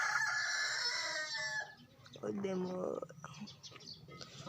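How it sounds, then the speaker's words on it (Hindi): A rooster crows twice, a long strained call followed by a shorter one, against steady outdoor background noise. "मुर्गा"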